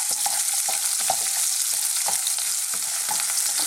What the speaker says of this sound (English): let's throw this around in our wok.